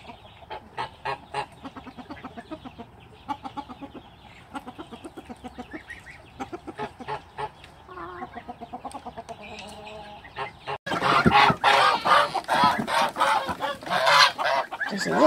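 A rooster calls repeatedly to its hens in short, rhythmic clucking bursts at dawn, with other fowl joining in honking squawks that grow louder and denser toward the end, all close by and without talk.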